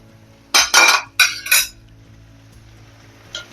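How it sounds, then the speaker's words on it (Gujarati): Boiled noodles go into a pan of sautéed vegetables for veg hakka noodles, making a quick run of four clattering metal clinks and scrapes, close up, then near silence with one faint tap at the end. "નૂડલ્સને આપણે વેજીટેબલ જે સોતે કર્યા છે એમાં એડ કરી દઈશું."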